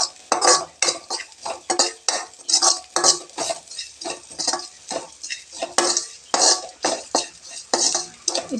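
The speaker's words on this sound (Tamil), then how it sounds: "இந்த எண்ணெயில் இப்போ ஒரு வதக்கிக்கலாங்க." Ingredients for carrot rasam being stirred and sautéed in oil in a metal pan, with repeated rhythmic scraping strokes of a spoon against the pan over a light sizzle.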